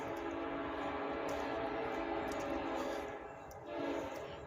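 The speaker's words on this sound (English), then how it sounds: "There comes the train." Train passing near a road intersection, a steady loud rumble of rail cars with a sustained horn blast running through it, fading slightly near the end; no talk.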